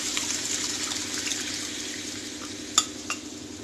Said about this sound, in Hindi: इसमें धीरे धीरे करके बॉइल्ड वाला जो दाल और सब्जी उसको डालूंगी।